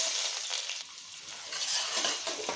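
Sliced onions and green chillies frying in hot oil with cardamom pods, cloves and shahjeera, giving a steady, moderately quiet sizzling hiss with soft stirring scrapes, close and without talk.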